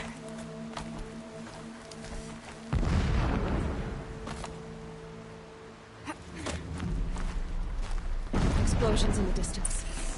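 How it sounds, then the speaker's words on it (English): Distant explosions in the video game Horizon Zero Dawn thud as a few dull, rumbling booms that swell and fade, with a voice speaking over the scene. "Explosions in the distance."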